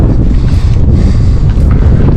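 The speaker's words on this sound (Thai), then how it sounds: "อาจเห็นเป็นทางเรียบ ๆ นะ แต่ลมแรงมาก หนาวมากครับ" Strong, cold wind blows along a lakeside path, roaring and buffeting loudly against the microphone in constant gusts with no voices heard.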